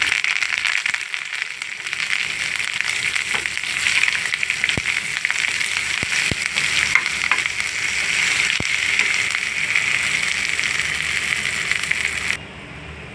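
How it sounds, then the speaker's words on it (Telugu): A tempering of mustard seeds, cumin, dry red chillies and curry leaves fries in hot oil for ivy gourd chutney, giving a steady close sizzle with scattered sharp crackles and pops that cuts off near the end. "తాలింపు అయితే బాగా వేగిందండి."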